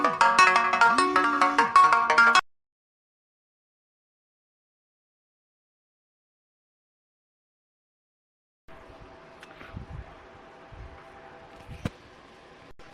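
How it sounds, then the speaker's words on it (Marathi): A phone ringtone plays loudly for a couple of seconds, cuts off into silence, then faint household noise and soft knocks follow. "ते फोन वाजून राहिला"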